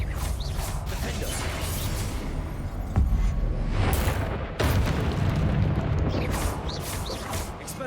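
Blasting spell explosions in the video game Hogwarts Legacy, two sharp booming bursts over a continuous rumbling, clanking mechanical backdrop, fairly loud and sustained.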